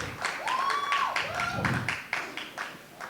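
Scattered hand clapping from an audience at a Sony Music album launch, a few sharp claps spread over about three seconds under a speaking voice.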